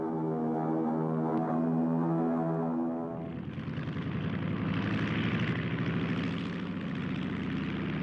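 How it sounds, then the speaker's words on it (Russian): Propeller aircraft engine drones steadily, with a tonal throbbing hum that gives way to a broader, rushing roar of a plane in flight, fairly loud and continuous with no voices. "Самолет в воздухе."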